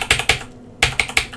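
Keys pressed on an Amstrad CPC computer keyboard, five or six sharp clacky keystrokes in two quick clusters with a brief pause between, close and loud with no talking.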